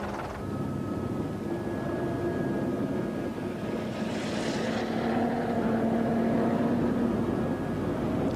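Helicopter flying over a 1993 Paris-Dakar Rally stage where a Renault Alpine buggy races through desert dust, a steady droning engine and rotor hum with a rising whoosh midway, continuous and moderately loud.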